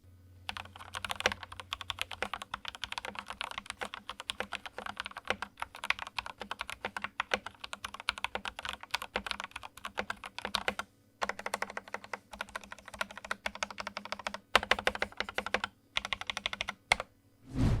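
Continuous typing on an Akko 3061S World Tour Tokyo 60% keyboard, dense rapid keystroke clacks close up, with a few brief pauses and no voices.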